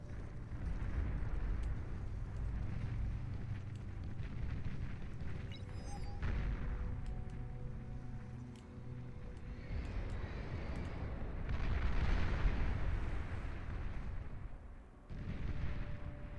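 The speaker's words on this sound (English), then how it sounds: "Dual Gatling gun, riot cannon, pop-up tower." Rapid gunfire and heavy cannon booms from a Gatling gun, riot cannon and pop-up tower in a video game battle, a dense, continuous barrage with no talking.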